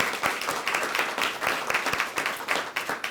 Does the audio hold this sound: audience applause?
yes